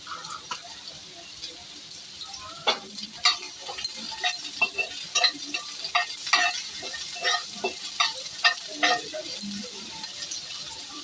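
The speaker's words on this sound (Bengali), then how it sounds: "তেল বসিয়ে দিয়েছি, প্যানে দিয়ে দেবো অল্প একটু পেঁয়াজ" Onions fry in oil in a pan, a steady close sizzle with repeated scraping and stirring clicks scattered through it.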